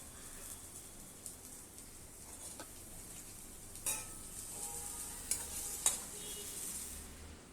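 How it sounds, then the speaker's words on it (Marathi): Peas and potatoes frying in oil in a pan, a faint continuous sizzle with occasional stirring scrapes and a few sharp clinks, heard alone without talk. "आता मी वाटाणा आणि बटाटा हा तळून घेते."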